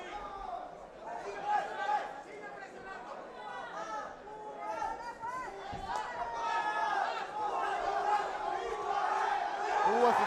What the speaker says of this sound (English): You hear the crowd on his side.